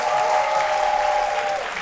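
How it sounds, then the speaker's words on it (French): Brief, loud burst of studio audience applause on a Côte d'Ivoire midday TV show, a steady wash of clapping with a faint tonal hum running underneath. "que je vous demande d'applaudir"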